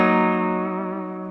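A single sustained chord on a DIY kit electric guitar played through a Twin Reverb amp simulation on a processor, ringing clearly with reverb and slowly decaying.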